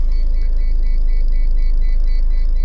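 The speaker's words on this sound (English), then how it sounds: "hit the safety button, and it beeps for a period of time" A Mazda Bongo camper's automatic pop-up roof sounds a safety warning: a steady train of short, evenly spaced electronic beeps over a constant low idling rumble.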